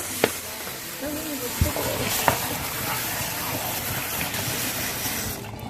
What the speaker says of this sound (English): then we're gonna rinse